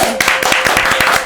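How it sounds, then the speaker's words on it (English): Brief round of clapping from a small podcast audience, quick irregular claps close to the microphone, lasting about a second. "Can we get a round of applause?"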